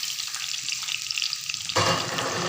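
Thick-cut onions sizzle in oil for a dish of soya chunks, a steady frying hiss that suddenly grows louder and fuller partway through as more goes into the pan.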